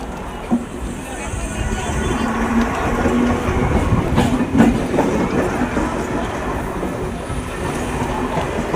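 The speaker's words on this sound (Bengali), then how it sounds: "ট্রেন ট্রেন যাচ্ছে" A train rumbles past close by with a continuous, heavy rolling clatter that swells in the middle. People talk nearby.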